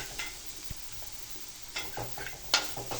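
Ground masala paste is stirred in a frying pan while cooking elephant yam leaf thoran, giving a few soft, close scrapes and short sizzling bursts over quiet background hiss.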